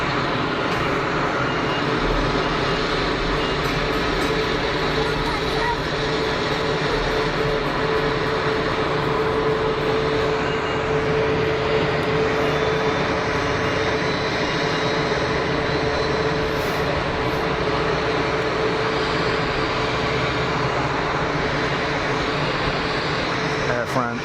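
A Pegasus airliner taxiing at Geneva Airport produces a steady, continuous jet-engine rumble and whine that stays at an even level throughout.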